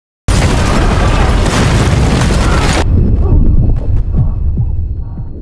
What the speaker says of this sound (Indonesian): Di bawah meja ternyata telah dipasang sebuah bom.